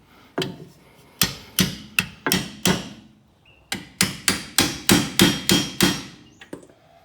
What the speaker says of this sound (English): I'm going to try and tap it and see if it can send the bearing forward